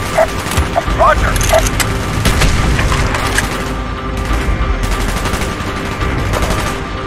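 Gunfire in the Call of Duty Black Ops video game, set at Baikonur in the U.S.S.R., with loud, dense bursts of shots and cracking impacts running through the whole stretch over a steady battle din.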